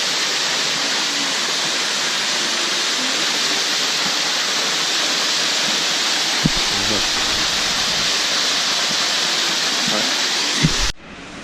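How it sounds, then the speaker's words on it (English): The waterfall at Ricketts Glen gives a loud, steady, close roar of rushing water that holds without a break for the whole stretch. "Here's the next waterfall."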